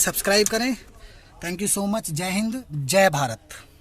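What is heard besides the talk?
No everyday noise stands out behind the speech.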